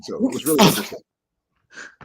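A woman sneezes once, a sharp close burst, after someone speaks, with a brief faint sound after a short silence.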